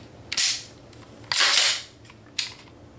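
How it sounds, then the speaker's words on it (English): Trigger being pulled on a Kel-Tec Sub-2000 Gen 2 rifle: three sharp, close mechanical snaps at uneven intervals, each followed by a short rattling tail, over a faint low hum with no speech. "now we're gonna switch it back over to fire, pull the trigger, keep it depressed"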